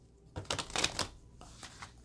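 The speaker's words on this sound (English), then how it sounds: "this heart-shaped deck is so cute, but so difficult to shuffle" A thick-stock, heart-shaped tarot deck is shuffled close by, giving a burst of rapid riffling card flutters followed by a few softer slaps.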